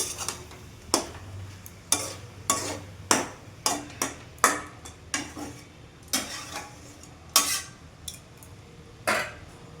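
Onion and soybean frying in a pan, with a low sizzle under a string of sharp, irregular metallic clinks and scrapes from a spatula striking the pan.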